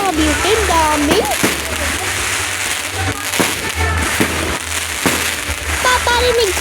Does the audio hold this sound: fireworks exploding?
yes